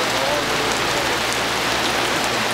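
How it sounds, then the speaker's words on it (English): Warm rain falls steadily at a state park campground in Georgia, a dense, even hiss of drops spattering on surfaces with no pauses. "That's some nice warm rain."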